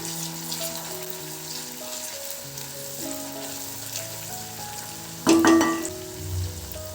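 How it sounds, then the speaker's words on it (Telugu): Chopped tomato frying in oil in a pan for a Kerala coconut fish curry, steady close sizzle with a sharp louder burst near the end. "ఈ మాదిరి కట్ చేసుకొని జస్ట్ ఆ పచ్చివాసన పోయేంత వరకు ఫ్రై చేసుకుంటే సరిపోతుంది."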